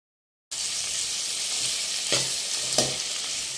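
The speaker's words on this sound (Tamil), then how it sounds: "இப்போ ஸ்டவ் கொஞ்சம் ஹை ஃப்ளேமில் வச்சுக்கலாம் நல்லா வதங்கட்டும் பாருங்க" Onions and tomatoes sauté over a high flame for hotel-style paneer butter masala; a steady close sizzle starts after a brief silence, and a couple of stirring scrapes rise above it.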